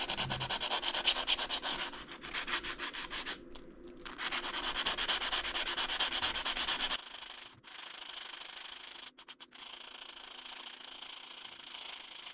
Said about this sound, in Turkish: Gördüğünüz gibi ben zımparaladıkça önce üzerindeki boya gidiyor